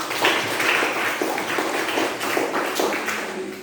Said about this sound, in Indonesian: Tepuk tangan dulu untuk Susan.